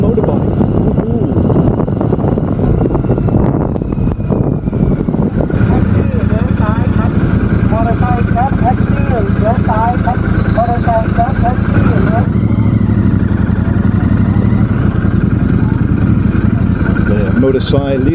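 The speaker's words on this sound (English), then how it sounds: "This is the advantage of a motorbike." Motorbike engine droning steadily while riding toward Chiang Rai, heard through a helmet mic with wind rush, someone talking over it throughout.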